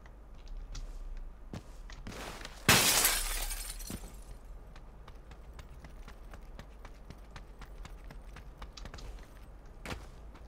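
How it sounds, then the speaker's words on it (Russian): Window glass shatters in a single sharp, loud crash as a door is closed in PUBG on the Taego map, the shards trailing off over a few seconds against quiet background hiss and faint clicks. "Закрываю дверь, стекло разбивается."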